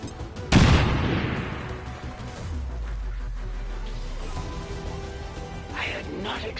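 Frag grenade explosion in XCOM 2: War of the Chosen, a single loud sharp blast that decays into a long rumbling tail, followed by quieter game ambience.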